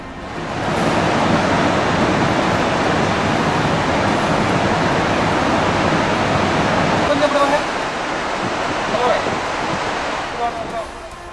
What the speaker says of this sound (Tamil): நீலகிரி மாவட்டம் கூடலூர் அருகே எம்ஜிஆர் அருவியில் ஆர்ப்பரிக்கும் வெள்ளம்.